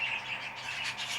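A show bird kept in a hobby breeder's shed chirps repeatedly, soft high tweets fairly close in a quiet room, with no one talking.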